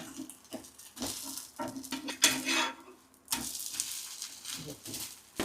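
A green curry leaf dosa cooks on a pan with a soft sizzle, interrupted by intermittent scraping and metallic clinks of a spatula, with quiet gaps between bursts.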